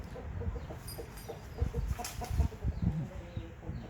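A hen that is egg-bound, straining to lay, clucks repeatedly up close in short, uneven bursts, with light rustling around her.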